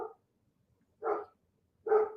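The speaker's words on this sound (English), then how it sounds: "He's barking at the mailman." A dog barks at the mailman in short, close, separate woofs, three in about two seconds with silent gaps between them.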